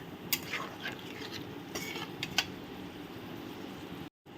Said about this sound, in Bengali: আর এর মধ্যে আমি দিয়ে দেবো একটু ঘি। দিয়ে দিলাম, দিয়ে এখন আমি একটু নেড়ে নেব।